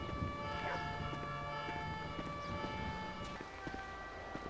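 A fire truck siren wails as it arrives on scene in the video game GTA 5, a steady rising-and-falling tone heard at moderate distance over a busy background of street noise.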